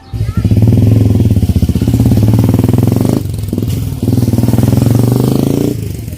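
A Yamaha Sniper 150 motorcycle engine hums steadily and loudly while riding, with a brief dip in the middle before the drone resumes at a constant pitch.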